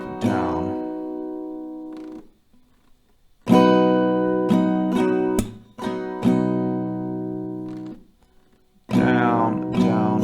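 Close acoustic guitar strumming in a down, down, up, clap, up, down pattern, with crisp strokes, a sharp clap and ringing chords between pauses, and brief talking at the start and end.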